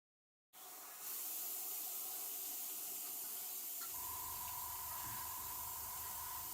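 Airbrush spraying a base coat of paint, a steady close hiss that starts abruptly and runs continuously, with a faint tonal whine joining partway through.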